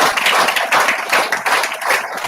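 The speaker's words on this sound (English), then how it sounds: "Come on, let's all clap together" An audience claps together at a felicitation program honoring token achievers, steady dense applause sustained throughout in brief swelling waves, close and fairly loud, with no talking.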